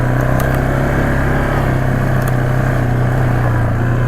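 A 2005 Yamaha Kodiak 400 4x4 ATV engine running at a steady idle, a loud, close, continuous low drone with no clear revving, and no talking.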